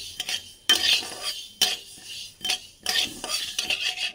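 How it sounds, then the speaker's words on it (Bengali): White mustard seeds frying in oil in a pan for mango oil pickle, heard as sharp bursts of stirring and scraping with a light sizzle, arriving in several separate close rushes with brief quieter gaps. "সর্ষে থেকে সেন ওঠা পর্যন্ত আমি হালকা আছে এভাবে ভেজে নেব"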